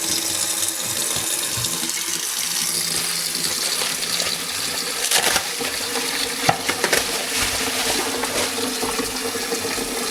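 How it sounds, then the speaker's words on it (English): Clean water pours steadily into the tank of a DJI ROMO P robot vacuum, a loud continuous close gushing stream with a few small knocks near the end. "We fill that with clean water."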